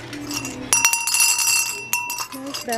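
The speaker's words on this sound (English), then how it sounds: "Ooh, nice bell." A decorative holiday bell in a home goods shop is rung twice, each strike a bright ringing clang that sustains and fades, with a voice speaking softly around it.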